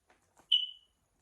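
A single short, high-pitched electronic alarm beep sounds alone in a quiet room, preceded by a couple of faint soft clicks.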